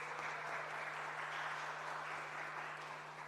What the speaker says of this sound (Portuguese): eu peço uma salva de palmas ao inspetor Nelson